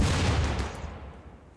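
Turret gunfire in RimWorld, a dense burst of rapid overlapping shots that crackles loudly at first and then fades into a decaying rumble, with no speech.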